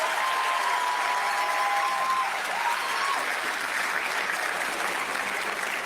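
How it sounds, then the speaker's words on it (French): Sustained audience clapping at the official unveiling of the mascot for the Youth Olympic Games in Dakar, a dense, even wash of applause that holds steady from start to finish with a faint tone threading through it. "Merci de les applaudir encore, ces deux talents qui ont trouvé et le nom et créé le visage de cette mascotte."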